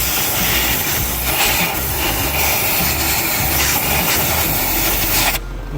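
A Mini Cooper engine runs during a coolant leak check, a steady broadband hiss and rumble close by that cuts off abruptly near the end.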